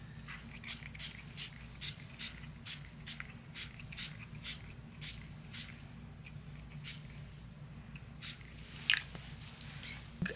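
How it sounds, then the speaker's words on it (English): A steady series of short, soft spritzes from an ink spray bottle onto paper cards, evenly spaced over several seconds, close up, followed by a couple of small clicks. "And we'll spray these."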